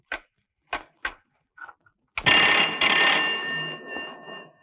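A telephone rings in a domestic scene from the Tamil film Navagraham: a few short bursts of activity, then a loud, sustained bell ring lasting a couple of seconds, close and clear, with no talk over it.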